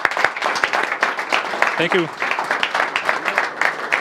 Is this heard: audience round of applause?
yes